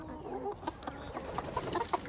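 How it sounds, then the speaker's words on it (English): A backyard flock of hens clucks in soft, irregular bursts, several birds overlapping at close range over a steady background hiss, with no one talking. "we're gonna see how the chickens are doing."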